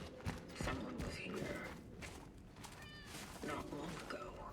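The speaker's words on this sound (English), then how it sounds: "I hear Kitty. I don't see Kitty" Cat meowing in the video game Cronos: The New Dawn, a few drawn-out meows amid game ambience and clatter, with a person talking over much of it.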